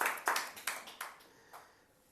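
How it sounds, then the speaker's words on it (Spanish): Congregation clapping in a church, about five distinct sharp claps spaced irregularly and fading, quiet and somewhat distant. "Dele un aplauso al Señor."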